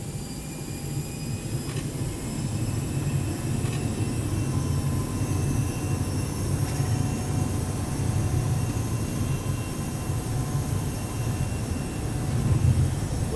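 Airbus A321-200 on its takeoff roll in the X-Plane 11 flight simulator, a steady loud engine roar with low rumble that holds throughout and swells slightly near the end, with no talking.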